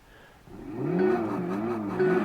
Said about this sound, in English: And they get us to drive a Honda Integra Type R.